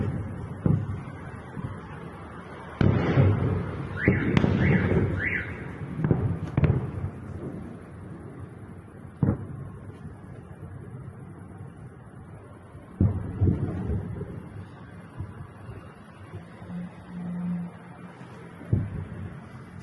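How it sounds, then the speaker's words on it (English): Distant explosions after a drone attack in Novomoskovsk thud and boom irregularly through a rumbling background, some blasts sharper and closer, others faint and rolling, with no voices. "You're going to be hearing explosions in the background in Novomoskovsk."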